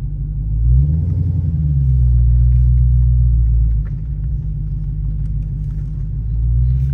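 A Dodge Challenger fitted with a Vicrez wide body kit drives along with a deep, steady engine rumble that swells briefly, eases back, then builds again, heard close and loud throughout.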